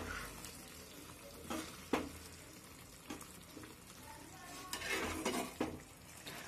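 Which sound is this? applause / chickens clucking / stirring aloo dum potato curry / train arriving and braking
stirring aloo dum potato curry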